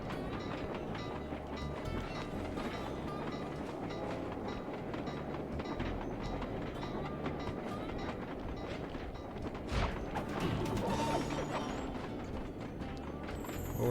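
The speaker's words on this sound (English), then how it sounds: "Train!" A train rumbles past in the video game Sly 2, a dense, steady mechanical clatter with rhythmic clip-clop-like knocks, fairly faint and continuous with no talk over it.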